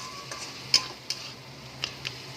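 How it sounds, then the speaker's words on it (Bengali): Chopped tomatoes cook softly in a pan as a utensil stirs them, giving several distinct scraping clicks over a faint, quiet sizzle. "টমেটোটা একটু গলে দেওয়া অবধি আমি নাড়াচাড়া করবো"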